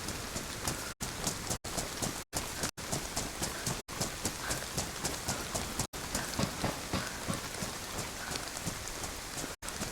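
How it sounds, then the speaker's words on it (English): Rain in the video game DayZ, set on the Livonia map, a steady dense patter of drops that carries on without a break, with brief stutters of dropout, and no talk heard. "The rain is a little laggy on my end"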